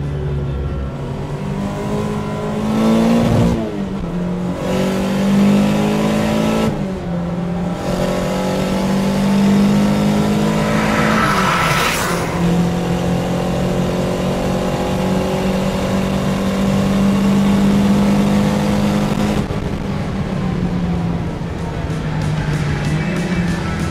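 A Porsche 924 Carrera GTS rally car drives and revs hard, its engine note climbing and dropping through repeated gear changes, loud and close for the whole stretch, with brief lifts between pulls and no talking.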